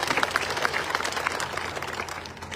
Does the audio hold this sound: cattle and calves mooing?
no